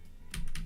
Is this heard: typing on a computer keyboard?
yes